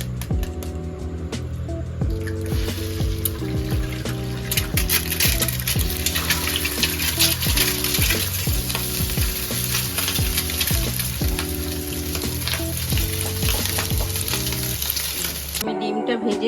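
An egg frying in oil in a frying pan makes a loud, continuous crackling sizzle close by, with a musical backing running underneath it throughout.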